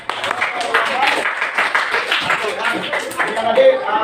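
A classroom claps after a group presentation, a lively run of many hands clapping together at a steady pace, with voices mixed in.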